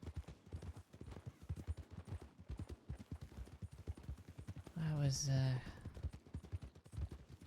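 Horse hooves galloping in a video game, a fast, steady clip-clop rhythm throughout with a brief burst of voice near the end.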